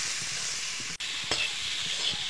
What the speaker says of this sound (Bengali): আমি কচুটা একটু ভেজে নিয়েছি